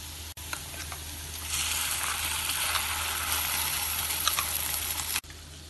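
Sliced onions and a freshly ground masala paste sauté in a pan for a vegetable curry, giving a steady, even sizzle with no voices.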